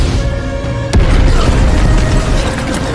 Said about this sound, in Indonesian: langsung membuat api meledak memenuhi area bawah menara pemurnian Qi